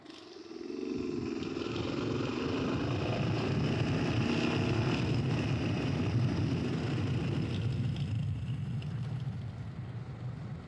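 A Yamaha XT 660 motorcycle riding in second gear at about 70 km/h, its steady engine drone heard from the rider's position under a constant rush of wind for roughly ten seconds, with no talk.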